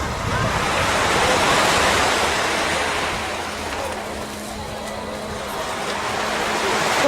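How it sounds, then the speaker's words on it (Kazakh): Sea waves washing onto the shore in the afternoon in Turkey, a broad continuous surf roar swelling and easing, with a faint low hum beneath later on. "Күндізгі теңіз."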